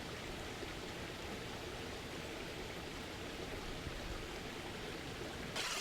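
Water flowing through a backyard water garden feature, a steady broadband rush and splash that stays constant throughout with no voices.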